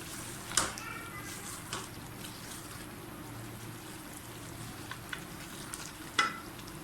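Potato pieces (aloo katli) softened after ten minutes covered, now being lightly fried in a pan: a low steady sizzle with a few sharp scrapes and clinks of stirring, fairly quiet, no talk.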